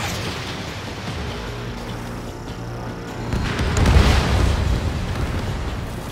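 An enemy bomber blowing up after being shot down in Ace Combat 7, a swelling low rumbling explosion rising out of steady jet-engine roar and fading slowly.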